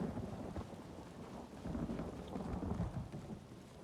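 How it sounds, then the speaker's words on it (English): Steady rain hisses across a video game scene while low thunder rumbles through it, a dense, even wash of storm noise with no talking. "And it's raining."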